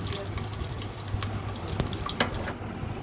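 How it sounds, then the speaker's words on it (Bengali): Chopped onions, four of them, crackle and spit as they hit hot cooking oil in a kadai, a bright, close sizzle with sharp pops scattered through it. "তেল গরম হয়ে গেলে আমি 4টি পেঁয়াজ কুচি দিয়ে দিলাম"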